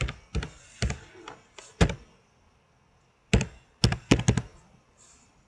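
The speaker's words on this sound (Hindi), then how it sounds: "एंटर प्रेस किया" Computer keyboard typing while entering figures in CorelDraw, a sparse run of sharp clicks and knocks, some in quick bursts, with the Enter key struck. Close and fairly quiet, with no talk.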